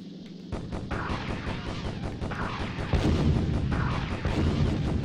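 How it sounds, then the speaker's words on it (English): Missile launches and heavy booming fire in the air-combat game Beyond Pearl Harbor rumble continuously under loud engine drone, with several fairly close bursts. "I think they're firing missiles"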